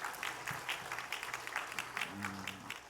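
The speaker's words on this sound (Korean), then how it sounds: "수고의 박수를 보내줘." A church congregation gives a round of applause in the sanctuary, moderate, slightly distant clapping in soft bursts, with a low hum and a murmured voice underneath.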